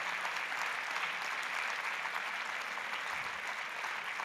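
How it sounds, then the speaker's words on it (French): Sustained applause from an audience at the CNAEMO 2021 awards ceremony, a dense, steady wash of many hands clapping at even loudness throughout, with no voices over it. "je voudrais qu'on l'applaudisse encore une fois"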